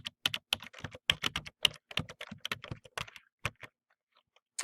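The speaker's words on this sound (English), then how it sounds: "then you can type in the DOI string" Quick bursts of keystrokes on a computer keyboard while a DOI string is entered, close and crisp, in an irregular rhythm that trails off into sparse single taps.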